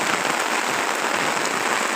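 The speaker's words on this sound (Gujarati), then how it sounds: "તમે જોઈ રહ્યા છો અત્યારે મહુવા તાલુકામાં ગામોમાં જોરદાર વરસાદ વરસી રહ્યો છે" Heavy downpour falling on villages in Mahuva taluka, a dense, steady hiss of rain that fills the whole clip at constant loudness, with no voices.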